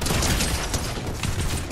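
Rapid gunfire in a video game, a dense, loud burst of continuous shots and mechanical clatter filling the whole stretch without pause.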